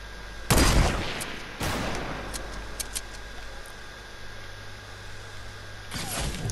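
Gunfire in Fortnite Battle Royale: two loud booming shots close together, then a quieter stretch of game ambience before another heavy blast near the end.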